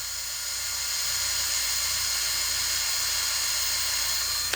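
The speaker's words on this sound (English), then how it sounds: "I just run the drill bit back in before running the tap in" A drill bit whirs steadily as it spins back into a pre-drilled hole in a small metal axle part before tapping. The tone is a continuous high-pitched whine, loud and close, ending with a sharp stop.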